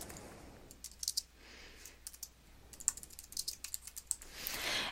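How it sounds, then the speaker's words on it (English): Quick, uneven bursts of typing on a computer keyboard while entering an email subject line, the clacks close and moderately quiet, with brief pauses between runs and no voices. "And now I'll type a subject to Cherie."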